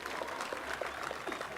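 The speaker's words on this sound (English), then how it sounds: "Can you clap for them?" An audience at a university graduation ceremony in Kenya applauds with dense, continuous clapping at a faint level throughout.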